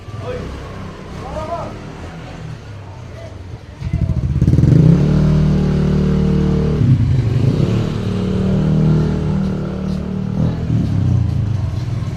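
A motorcycle passes on a road, swelling up loud and near partway through and rumbling on steadily before easing slightly, with children's voices and talk heard earlier over the engine.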